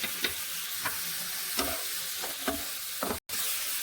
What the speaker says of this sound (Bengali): এবার আমি এখানে একটা টমেটো বাটা দিয়ে ভালো করে মশলাটাকে কষিয়ে নেব।